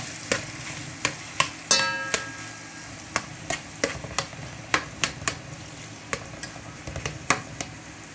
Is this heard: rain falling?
no